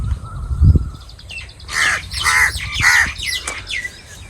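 A black crow caws several times in a row, loud and close, harsh calls following a brief low thump at the start, near farm fields.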